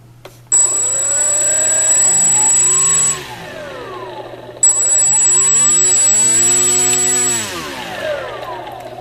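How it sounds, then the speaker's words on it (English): Brushless electric motor of a Ranger 42 RC plane kit spinning up at half throttle, a loud steady high whine with propeller roar, run twice with a ramp up, hold and wind-down each time, no talking. "that was only half throttle, so it could show you how much power it has"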